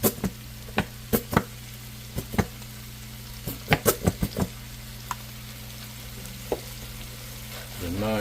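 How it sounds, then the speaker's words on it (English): Oxtail stew with Grey Poupon mustard sizzles softly in a pot while a spoon clacks and scrapes against the sides in scattered sharp knocks, over a low steady hum, ending in a brief louder bubbling fry. "A nice little stir."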